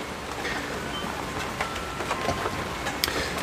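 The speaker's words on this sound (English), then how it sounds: "rainy day." Rain falls steadily on a rainy day around a house, a dense, even patter with scattered louder drips, continuous and fairly close, with no talking.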